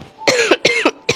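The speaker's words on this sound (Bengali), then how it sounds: "আমার ভালো লাগতেছে না এই কাশিটা" A woman coughs three times in quick succession, each cough sharp, loud and close, with short gaps between them and nothing else audible.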